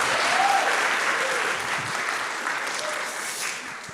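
Audience clapping hands at a hackathon final presentation, a steady wash of applause from a sizable crowd lasting the whole few seconds with slight fading, faint voices underneath.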